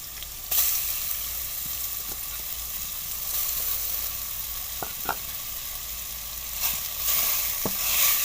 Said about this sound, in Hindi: अब हम इसके अंदर ये आलू डाल देते हैं जो हमने ग्रेट किए हुए हैं।